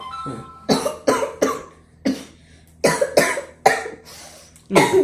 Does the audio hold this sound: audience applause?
no